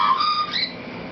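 A Cape Parrot gives a short, clear whistled call with a slight upward inflection, heard once, close and fairly loud, lasting about a second.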